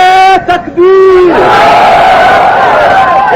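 A single voice calls out a slogan, then a large religious gathering roars Allahu Akbar in unison, a loud sustained massed shout.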